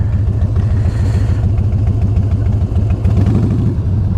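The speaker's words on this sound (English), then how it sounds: "She's gonna say these Harleys are too loud." A Harley-Davidson motorcycle engine rumbles nearby at idle, steady, loud and low, with an uneven loping beat and faint mechanical clatter throughout.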